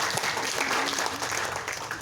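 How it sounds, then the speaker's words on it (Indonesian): Applause from an audience at a village merti bumi gathering in Ngropoh, Kranggan, Temanggung, honouring Pak Tanto after his speech: dense, steady clapping for the whole stretch, fairly loud and close, with no pauses. "Tepuk tangan untuk Pak Tanto."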